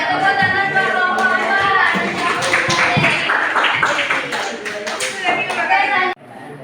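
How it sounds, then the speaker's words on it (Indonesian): A class of students claps for a presenting group in a school classroom, with dense broadband hand claps lasting about six seconds over voices and chatter, ending abruptly. "Tepuk tangan buat kelompok"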